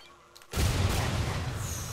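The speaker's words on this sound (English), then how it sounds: "I was planning on chucking a grenade over the top." Grenade thrown over a wall exploding in Watch Dogs 2: after a quiet moment, one sudden loud blast bursts in, followed by a rumbling, slowly fading roar.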